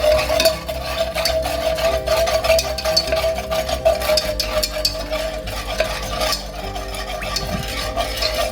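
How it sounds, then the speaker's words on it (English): Steady whisking of sugar into egg yolks for crème brûlée, a continuous scraping stir in a bowl with a low hum of kitchen noise underneath, no speech. "So in goes the sugar, and we're gonna just keep whisking this."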